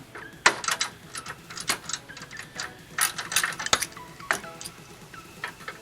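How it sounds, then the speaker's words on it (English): A ratchet loosening bolts on the intercooler piping of a 2008-2015 Mitsubishi Lancer Evolution X, sounding as close bursts of sharp clicking in irregular runs, with no talk. "So we loosen both of these up, loose, this thing's ready to come off, and then just break this lefty loosey."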